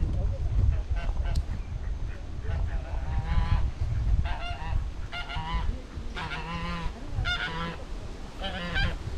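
Birds call in a botanical garden on Oahu, giving loud, repeated honking cries in bursts over a low, rumbling background.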